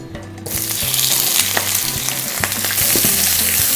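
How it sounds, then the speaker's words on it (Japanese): Leeks sizzle loudly in hot duck fat in a frying pan used to sear duck, a steady crackling fry starting abruptly and continuing close up, with occasional utensil knocks and no talk. "鴨の油でネギ焼いた時点で美味しそうですもんね"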